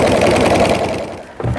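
Home sewing machine with a walking foot quilting a jelly roll tree skirt, a close steady mechanical hum that fades out near the end before a brief knock.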